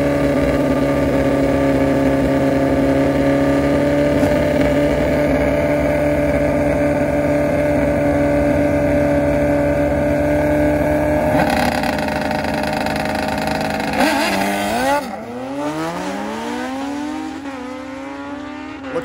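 Two stretched Suzuki GSX-R 1000 street bikes drag racing, engines held at a steady high drone that builds, then shifts through rising gear sweeps as they pull away, loud and continuous with no talk.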